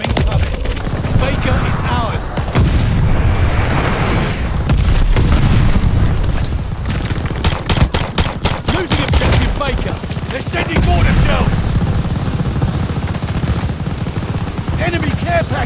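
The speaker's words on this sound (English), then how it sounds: "Enemy glide bombing coming." Glide bomb explosions and heavy gunfire fill a Call of Duty: Vanguard multiplayer match on PS5, with dense rapid shots, booms and sharp cracks throughout, loud and close, alongside intermittent announcer voice lines.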